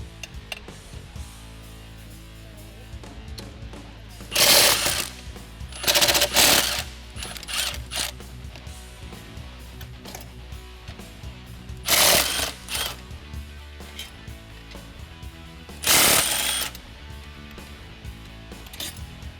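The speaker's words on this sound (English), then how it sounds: "we're gonna go ahead and unbolt the fuel rail. There are 4 10mm bolts holding it in place." Ratchet wrench loosening the four 10mm bolts holding the fuel rail on a 2005-2017 Mustang, heard as several short bursts of loud rapid clicking separated by quieter pauses, close by with no talk.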